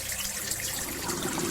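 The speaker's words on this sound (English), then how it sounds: "So it looks like we want to pour the water into this funnel." Water poured into a funnel in the horror game Doors: Paradox, a steady trickling stream heard alone and close for a brief moment.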